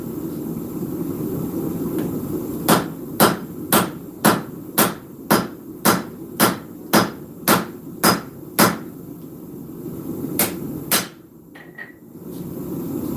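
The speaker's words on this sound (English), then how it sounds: "Go ahead and forge our step down." Hot metal being forged with a hand hammer on an anvil: about a dozen sharp, evenly spaced ringing blows in a steady rhythm, close and loud over a low roar of the forge fire, then a pause and a couple of lighter taps.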